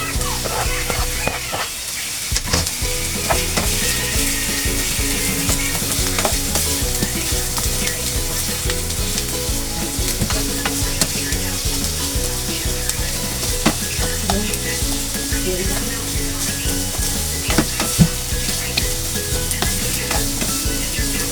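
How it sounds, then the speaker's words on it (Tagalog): Onions sautéing in a pan for escabeche, a steady close sizzle with occasional stirring clicks and scrapes running throughout. "Ginisa natin yung sibuyas, huwag yung gisang-gisa."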